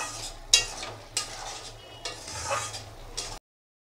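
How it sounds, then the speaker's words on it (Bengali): Spice paste with water, salt and chili powder cooks in a pan, close scraping stirs in uneven strokes over a low sizzle, then abrupt silence; no speech. "তো এখন নুন আর একটু লঙ্কার গুঁড়ো দিয়ে দিলাম, ভালো করে কষিয়ে নেব।"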